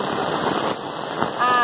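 Heavy rain pours down in Ubatuba, São Paulo, a loud steady hiss of water on surfaces with a brief surge at the end, close and constant.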